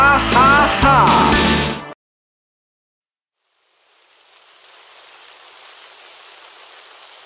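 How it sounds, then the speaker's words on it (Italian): Cartoon rain fades in after a musical passage and a pause, settling into a soft, steady hiss of falling rain that carries on alone. "Oh, piove."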